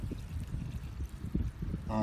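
Water poured from a couple of gallon jugs onto a newly planted tree in soil, a steady low gurgling splash running throughout, close by.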